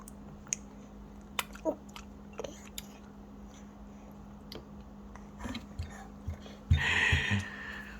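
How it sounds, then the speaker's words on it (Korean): A 200-day-old baby eats tomato, with small wet chewing and gulping sounds and scattered clicks, close and faint, followed near the end by a brief louder burst of handling noise. "쉬지도 않고 그냥 꿀떡꿀떡 먹네."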